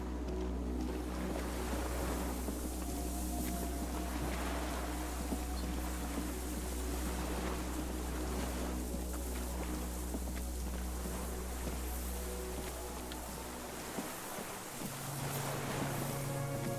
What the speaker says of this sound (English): The distant sounds of cargo ships, signal horns echo in the water.